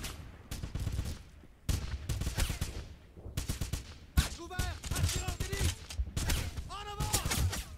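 Gunfire in the video game Wolfenstein rattles in loud bursts of rapid automatic shots separated by short pauses, with several distinct volleys and ringing ricochet-like whines over the course of the stretch.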